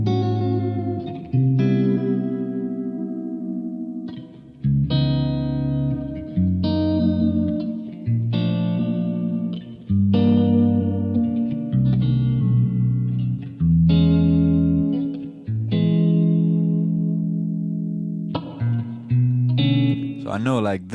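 An electric guitar track time-stretched in Ableton's warp modes plays a sequence of sustained, effect-laden chords and notes, each ringing for a second or two before the next, loud and close with chorus-like shimmer.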